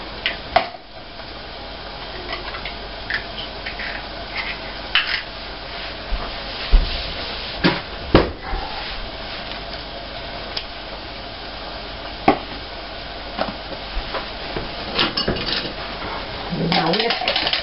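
Eggs beaten in a bowl, with repeated light clinks and taps of a utensil against the bowl scattered throughout, near and fairly quiet, while a voice talks briefly in the background.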